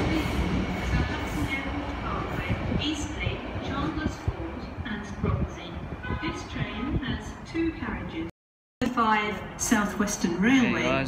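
A two-coach South Western Railway train at Southampton Central station, rumbling and rolling close by with wheel and track noise, a brief dropout near the end, then brighter squealing tones as people talk over it.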